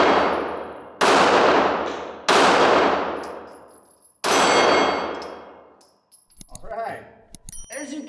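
Springfield Hellcat 9mm subcompact pistol shots ring out on a range, four sharp loud cracks with ringing decay, spaced about a second apart, followed by faint clatter and brief muffled voices.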